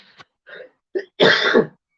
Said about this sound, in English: Oh, tickly cough.